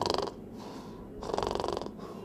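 A voice imitating a child's snoring mouth-breathing: two rough, rattling snore-like inhalations with a quieter pause between, close and fairly loud, with no other talk.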